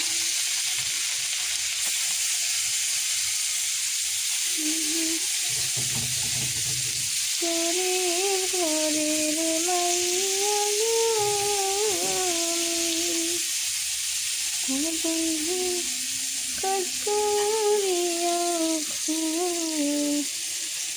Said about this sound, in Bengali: এই যে মাছগুলো দিতেছি তাওয়ার মধ্যে, ভাইজা নিম ভালো করে।